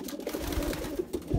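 Soft, low cooing from a racing pigeon hen, a mother bird kept for breeding, comes in a few short murmuring pulses at close range with no talking.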